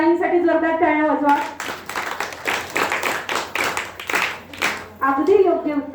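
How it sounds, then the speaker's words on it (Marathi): Loud applause from a crowd at a village gathering, dense clapping rising for about four seconds between stretches of a speaker talking before and after. "ताईंसाठी जोरदार टाळ्या वाजवा."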